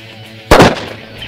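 A single loud, close gunshot fired at a downrange target cracks sharply and decays quickly, with no talking in the clip.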